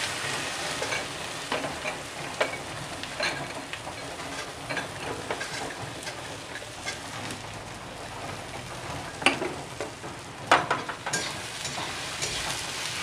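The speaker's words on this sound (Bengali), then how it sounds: "এবার হচ্ছে কি, আমি সোয়াবিনগুলোকে ভেজে নেব।" Soybean chunks frying in white oil give a steady, dense crackling sizzle, with scattered spoon clicks and stirring scrapes throughout.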